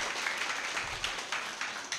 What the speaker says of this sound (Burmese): လက်ခုပ်တန်လေးတီးပေးပါဦးရှင်